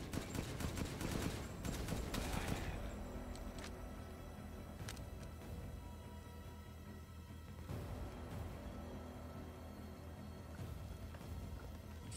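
Gunfire in Resident Evil Village, a dense burst of rapid shots at the start, then scattered fainter shots and rumbling battle noise continuing.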